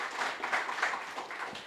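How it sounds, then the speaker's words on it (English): Applause from the audience at a public meeting in Point Fortin, a soft, steady wash of clapping heard from a distance throughout. "let's give them a round of applause"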